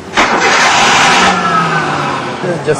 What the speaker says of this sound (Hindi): मोबाइल फोन में एक ऐसा एप्लीकेशन डाउनलोड किया हुआ है जिससे आप दरवाजा खोल भी सकते हैं, बंद भी कर सकते हैं और इंजन भी स्टार्ट कर सकते हैं